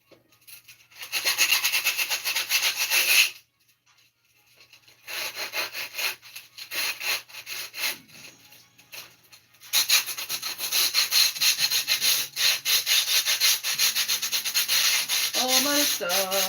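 Wood being sanded by hand with steady rasping back-and-forth strokes, close and continuous with a short pause midway, then resuming in a faster rhythm.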